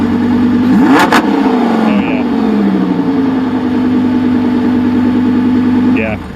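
Car engine with its exhaust valves open, near and loud, blipped once into a sharp rising rev that falls back to a rumbling idle, then revved again near the end; voices are heard over it.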